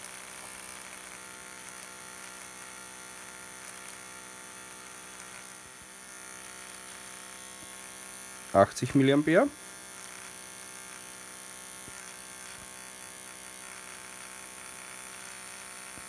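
A small Bühler electric motor running in with freshly fitted carbon brushes, giving a steady, even electric hum and whine throughout, with a brief spoken word near the middle.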